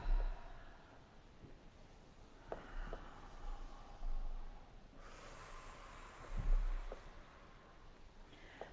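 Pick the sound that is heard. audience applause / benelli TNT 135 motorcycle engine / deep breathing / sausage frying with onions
deep breathing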